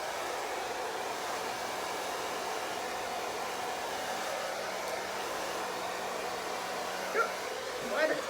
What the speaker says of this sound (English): I'm going to turn on like warm heat. And I'm going to blow dry the front and let y'all see.